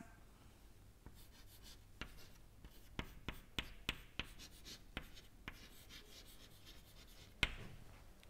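Chalk or marker strokes on a board during an engineering lecture on control volume mass and energy balance, with sharp, irregular taps and scratches at close range over a quiet room hum and no speech.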